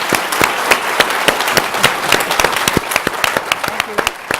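Audience applause after a lecture and Q&A, dense clapping from a crowd with sharp individual claps standing out, loud and steady throughout.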